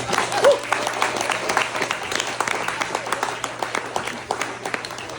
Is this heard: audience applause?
yes